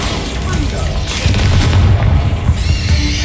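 A Bombarda blasting spell cast in Hogwarts Legacy, a deep, heavy booming explosion with a rumbling burst lasting a couple of seconds, loud and close, followed by a bright magical ring fading out.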